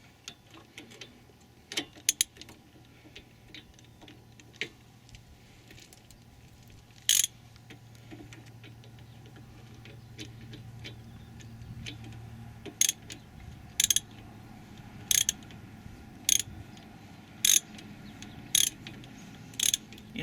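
A tool pushes the brake caliper piston back in on a Pontiac Bonneville during rear brake pad replacement, producing a faint mechanical hum and a series of sharp, evenly spaced ratcheting clicks that grow more frequent toward the end.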